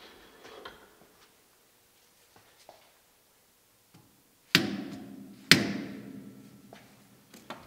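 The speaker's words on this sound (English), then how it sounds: "I'm probably gonna have to start whacking this with a rubber hammer." Two sharp, loud whacks from a rubber hammer striking a Marauder air rifle barrel during straightening, each ringing briefly, after quieter faint taps and handling noise.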